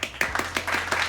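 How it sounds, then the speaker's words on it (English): A brief round of applause, a few sharp claps close by in quick succession, short and loud. "Round of applause for Mr."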